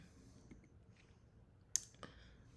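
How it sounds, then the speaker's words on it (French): Computer mouse clicks while opening an email: a few faint, crisp clicks at close range, two sharper ones near the end, against a quiet background with no talking. "Alors, je clique sur le mail."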